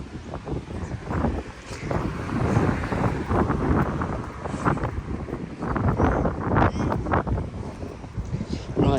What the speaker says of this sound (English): it is freaking windy and cold